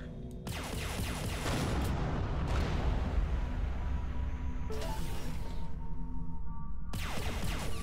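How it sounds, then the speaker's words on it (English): Spaceship weapons in Everspace 2 blast repeatedly in loud sustained bursts, a roaring barrage with rumbling booms that cuts off and restarts, with no talking. "gonna shoot that while I'm this close"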